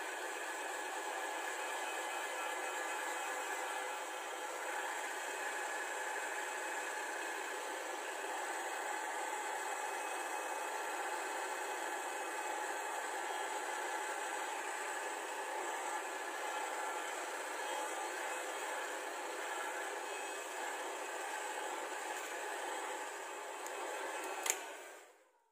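A heater blows hot air to dry paint, a long, steady, close whooshing hum that holds even throughout and cuts off abruptly at the end, with no voices.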